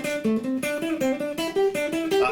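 A fast guitar lick in clear, evenly spaced picked notes, bright and close, played solo in a quick rising and falling pattern.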